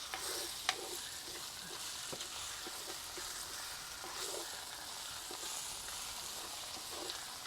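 Sliced okra frying in a pan and being stirred, a steady close sizzle with light scraping strokes of the utensil scattered throughout, no voices over it.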